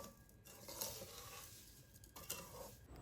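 Sugar being mixed into mango pieces for murabba makes soft, close stirring and scraping sounds with a few light clinks against the pot, quiet and without voices.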